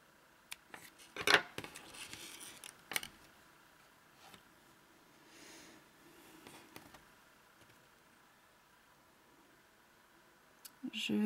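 Scissors snip crochet yarn near a knot while making crocheted hoop earrings, giving a few quiet, sharp clicks and snips with brief pauses between them, close by, with soft handling noise around.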